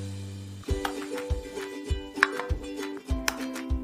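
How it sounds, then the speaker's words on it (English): A knife trims excess shortbread pastry for a pear pie with a series of sharp, close chopping taps against a board, about seven evenly spaced cuts over a faint steady hum. "We cut off the excess with a knife"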